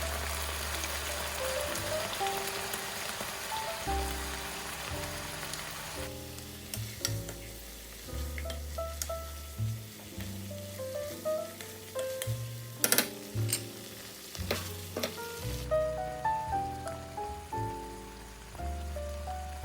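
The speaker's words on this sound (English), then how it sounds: "Throw in this wine. We're just gonna let this cook off." White wine sizzles and bubbles as it cooks off over high heat in a pan with onions for pasta con tonno. A continuous close hiss carries a few stirring knocks, and tonal music plays in the background.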